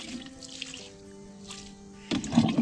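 Water poured over sun-dried garden plants, including squash, lands with dripping and trickling, then a louder splashing burst near the end over a faint steady hum.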